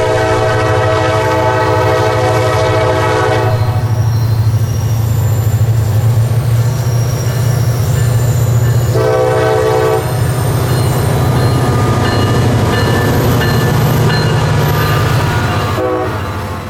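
Southbound freight train L753 hauling open-top hoppers loaded with quarry rock rumbles steadily past close by, its horn sounding in long blasts over the continuous heavy roll of wheels and cars.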